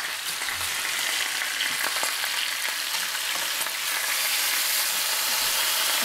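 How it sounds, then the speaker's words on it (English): Pork chops sizzle steadily in a hot pan, a constant crackling hiss with small pops, close and uninterrupted. "Look at them sizzling up pork chops over here."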